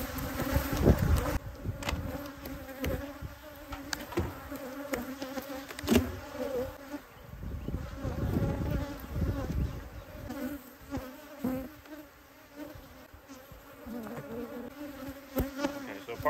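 Wild Texas honey bees buzz close and steady around an open hive box while honey is being harvested, the drone swelling and fading as individual bees pass near.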